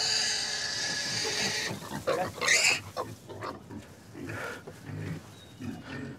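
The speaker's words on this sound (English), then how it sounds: "that's a very healthy pig making a fairly standard pig noise" A healthy pig on a 17th-century-style farm gives repeated grunting oinks, close and moderately loud, with someone talking over parts of it.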